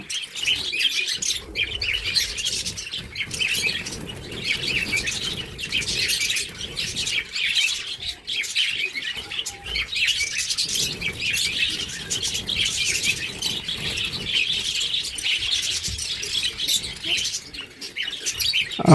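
A flock of budgerigars on a farm chatters nonstop in loud, frantic chirps and squawks as they are being caught, with bursts of fluttering wings as the birds scramble about.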